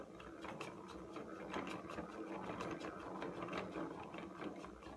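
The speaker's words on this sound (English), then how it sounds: "Then you're ready to start winding." A Dazzler's Best yarn winder turns as yarn winds onto it, giving a steady mechanical whir with fine ratcheting ticks that runs close and even throughout.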